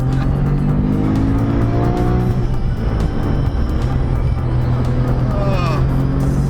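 A fast twin-turbo Porsche race car with about 600 added horsepower roars continuously nearby, its engine note rising and shifting with acceleration, while people talk excitedly over it.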